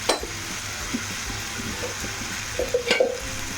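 Tomatoes cook in oil in a pan for a dosakaya pachadi, with a soft, continuous sizzle and occasional stirring scrapes and clinks near the end, close and moderate in level with no talk.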